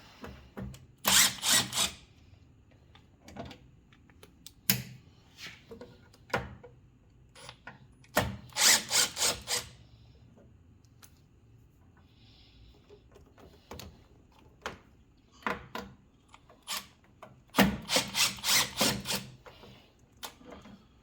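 Screws come out of a welder's fan housing under a power driver, several short whirring bursts in clusters separated by quiet pauses with small handling clicks, close up and without talk.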